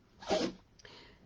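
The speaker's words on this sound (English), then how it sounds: "That's my dog sneezing." A dog gives a single short, sharp sneeze nearby, a quick breathy burst followed by a faint snort-like tail, quiet overall and alone.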